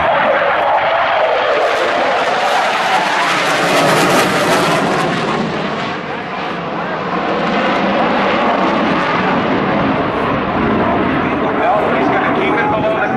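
An F/A-18 fighter jet roars loudly and continuously at an airshow, a broad sustained engine rumble that dips briefly mid-pass before swelling again, with a voice talking over it.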